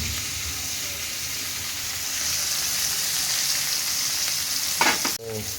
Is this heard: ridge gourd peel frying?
yes